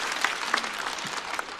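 Audience at a stand-up comedy show clapping, a lively burst of applause with sharp individual claps standing out, a few faint voices mixed in.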